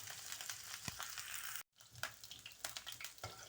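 Okra (bhindi) frying in oil in a kadhai, a steady broadband sizzle with a few louder pops and a brief cut to silence midway before the frying resumes.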